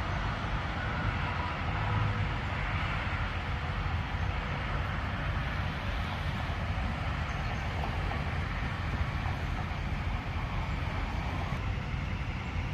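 Continuous loud rumbling roar of a train, steady and broadband, with no pauses or voices.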